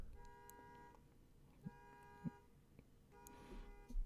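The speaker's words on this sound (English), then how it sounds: "Somebody's alarm going off, like, next door." A car alarm next door sounds faintly in the distance, repeating electronic tones at a low level with occasional nearby clicks and thumps.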